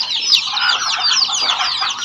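Many young chicken chicks cheep in a dense, continuous chorus of high peeping calls, loud and close, with no voices over them.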